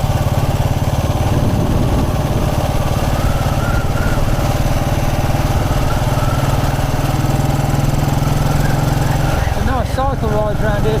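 A 1929 Ariel motorcycle engine runs steadily on a country lane ride, a close, continuous pulsing thump with rapid beats that persists throughout, with a voice breaking in near the end.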